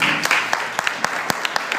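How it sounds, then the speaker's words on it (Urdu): Church congregation clapping during an Urdu sermon, a short burst of uneven hand claps at moderate distance in a reverberant hall, with a voice faintly under it. "یسوع کے نام کے لیے تالیاں بجائیں."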